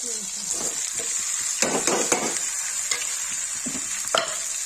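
Eggplant fries in a hot pan with spices for stuffed achari baingan, giving a steady close sizzle with a few scraping stirs and clinks.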